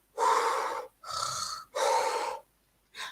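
A human voice imitates a buffalo snoring with three long, loud, breathy snorting rasps, each lasting about half a second to a second with short pauses between, then the start of a fourth.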